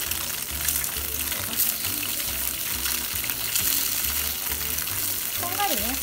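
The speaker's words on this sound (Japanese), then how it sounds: "片側が焼けたらひっくり返して両面を焼いてあげてください" Atsuage fried tofu and bean sprouts fry in a pan, a dense continuous sizzle with a steady rhythmic low pulsing underneath and a brief scrape or squeak near the end. No one speaks.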